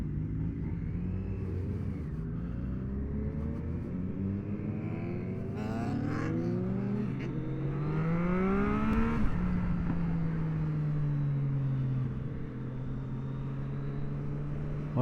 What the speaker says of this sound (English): A lot of Harleys out there.